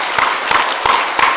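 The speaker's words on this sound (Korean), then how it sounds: "우리 감사의 박수 한번 하도록 하겠습니다" A church congregation applauds the teachers during a Korean service, with a few broad bursts of clapping rising and falling in quick succession, fairly close and steady.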